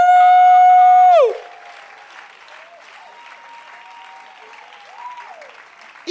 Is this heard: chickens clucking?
no